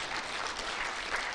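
Conference attendees at a regional gathering in Kenya clap briefly for a speaker's outfit, a short, even burst of crowd applause without a break.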